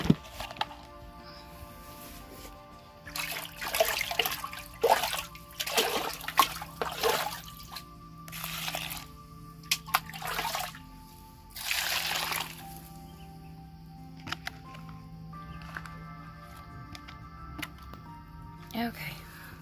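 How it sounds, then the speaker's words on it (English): Water poured in several short splashing bursts into pig feed on a farm, close by, with people talking between the pours. "We always put water in the pig's food."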